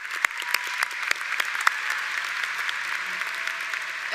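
An audience at a 2023 undergraduate commencement applauds, a dense, steady wash of clapping with a few sharper claps standing out near the front, sustained for several seconds with no voices over it.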